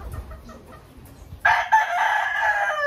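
A large rooster crows loudly and close by, one long harmonic call that starts abruptly after a quiet, low rumbling lead-in.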